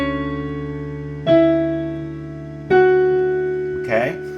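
A left-hand piano chord pattern rings out as three struck chords spaced about a second and a half apart, each sustaining and fading before the next, with a faint voice at the very end.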